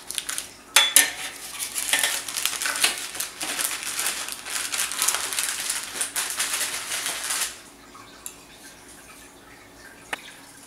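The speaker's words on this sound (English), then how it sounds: "we're going to transfer the cooked ones onto a wire cooling rack" Freshly baked macarons moved onto a wire cooling rack, a run of light clinks, scrapes and crinkly rustling for several seconds, then quiet with a couple of isolated taps.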